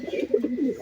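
A male Pakistani high-flying teddy pigeon coos at a female in a series of soft, rolling, throaty coos, close and fairly loud, with no talk.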